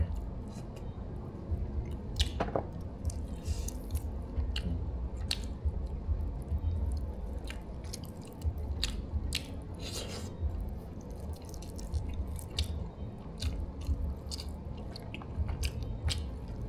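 Close-miked eating of fragrant baked chicken: moist squishy bites and chewing repeat steadily throughout, with occasional sharper crunches and no talking.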